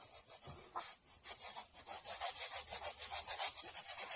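Sandpaper rubs back and forth over a small wooden toy car piece, a quiet rhythmic rasping with steady strokes that grow slightly stronger and quicker, close up and alone.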